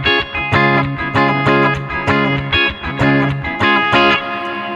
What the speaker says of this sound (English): I think this is probably the most reverb I've actually ever put on a guitar sound